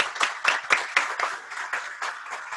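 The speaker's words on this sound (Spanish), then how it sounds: "el aplauso y reconocimiento para ellos" Audience at an ethics and anti-corruption conference panel applauding the panelists, a modest scattered round of clapping heard from a distance, individual claps distinct, steady for a couple of seconds.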